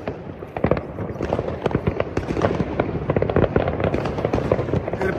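New Year's Eve fireworks and firecrackers for 2024 burst in a dense, continuous barrage of crackling bangs and pops, loud and close, with no talking.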